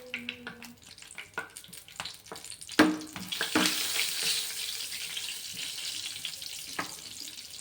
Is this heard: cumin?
yes